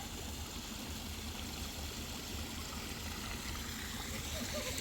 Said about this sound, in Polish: takie tam bąbelki sobie bulgoczą